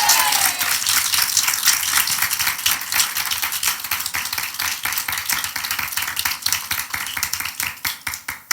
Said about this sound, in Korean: 그렇게 믿는 우리 하나님께 박수나 영광을 돌리겠습니다